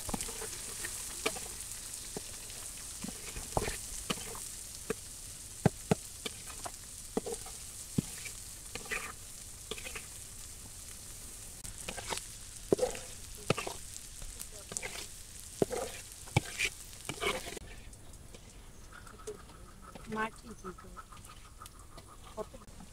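Onion, chili and shrimp fry in a pan at a village kitchen, giving a steady sizzle broken by scrapes and clatters of stirring, while a rooster and birds call faintly in the background.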